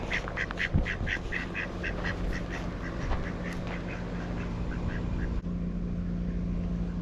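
A run of quick, nasal duck quacks sounds in a rapid series near the start, then fades, leaving outdoor background rumble.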